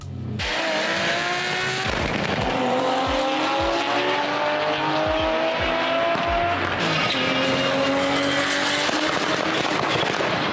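A Nissan Skyline R34 sedan engine revs hard and loud, rising and falling in pitch through gear changes, with tires squealing amid the roar.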